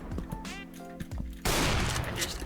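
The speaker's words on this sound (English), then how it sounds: "It has 2 gunshots before it has to reload." An AWP sniper rifle in the Roblox game Mad City fires with a sudden, loud, sustained blast in the second half, after quieter tonal game sounds at the start.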